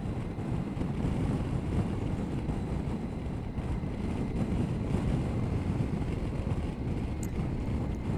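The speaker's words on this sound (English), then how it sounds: "the wind is coming right off the top of the screen, and it's hitting me right in the visor" Wind buffeting a motorcycle helmet visor, a constant low roaring rumble and rush that stays loud and steady throughout with no speech.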